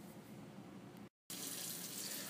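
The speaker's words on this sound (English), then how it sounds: "Under a steady stream of water, go ahead and wash your berries thoroughly" Tap water runs in a steady, hissing stream while berries are rinsed in a colander in a home kitchen. The stream is briefly cut off for a moment and then comes back louder and brighter.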